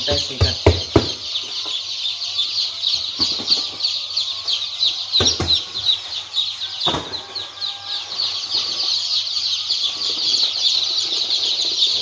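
Chicks in a poultry house give a dense, constant chorus of high-pitched peeping, with a few sharp knocks and clatters close by at the start and middle.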